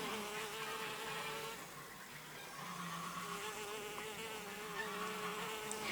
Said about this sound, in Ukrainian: Це пізньолітня бджола одиночка.